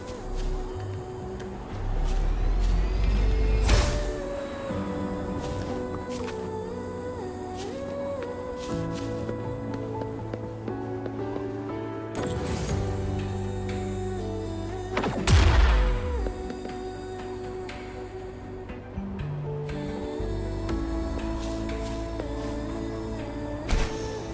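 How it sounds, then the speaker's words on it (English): Explosive blasts from tacitite fulminate on a cliff in the Wuthering Waves video game, two loud booming bursts with rumbling debris set against game music and ambient effects. "Perhaps we can create an opening in this disk with an explosion."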